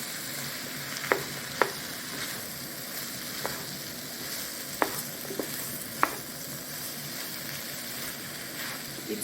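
Red sweet pepper and green onion sizzle steadily in a hot pan for Thai stir-fried noodles, with occasional sharp clicks of a utensil stirring.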